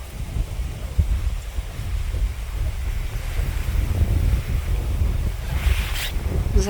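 Strong wind buffets the microphone on the Odesa region coast, a constant roaring rush with low gusty thumps and surf-like hiss, loud and unbroken throughout.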